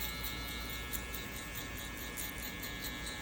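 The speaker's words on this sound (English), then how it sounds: "I'm going to go ahead and open the lever all the way on the clippers." Electric hair clippers with a 1/2 guard run during a burst fade haircut, a faint, steady buzzing drone with slight rhythmic variation as they pass through hair.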